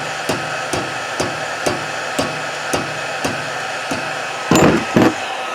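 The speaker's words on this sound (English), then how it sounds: "That helps, tapping it with a hammer." A hammer taps repeatedly on the fuel tank of a Briggs & Stratton Pulsa-Jet 4 to 5 HP engine, sharp metallic knocks at a steady rhythm, about ten strikes, the last two louder and fuller, with no talk.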